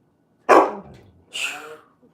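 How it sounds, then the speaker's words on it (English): Two loud barks from a dog outside, spaced about a second apart, the second one sharper and higher, with near silence around them. "he hears those dogs outside"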